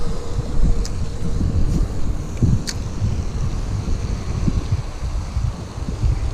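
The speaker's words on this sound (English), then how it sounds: "on this bank, I'm going to be facing right into the wind" Wind blowing across a pond bank, a steady rumbling buffet on the microphone with low gusty roar throughout and a few faint high ticks.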